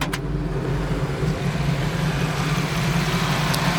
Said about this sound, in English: I'll rev it up a little bit. It's got a good sound.